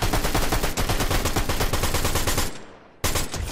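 Rapid automatic gunfire rattles continuously in a shooter video game, loud and close, with a brief lull before another burst resumes.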